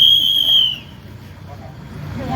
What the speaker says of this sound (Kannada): ಎಲ್ರ ಕೈಯಲ್ಲೂ ಸೀಟಿ ಓದಿಸಿ.